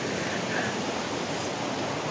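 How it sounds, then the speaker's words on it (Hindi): River flowing past a rocky jungle riverbank in the cool evening, a dense, continuous rush of water with no voices over it. "नदी बाजू से गुजर रही है।"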